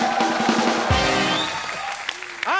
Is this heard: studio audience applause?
yes